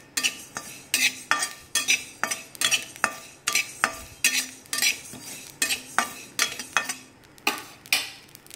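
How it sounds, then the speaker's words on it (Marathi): Fennel seeds dry-roast in a pan as a utensil stirs them, making a regular series of sharp scraping clinks and rustles, about two per second, close and fairly loud, with no voices. "आता हे सोपा भाजून दाखवलं मी तुम्हाला."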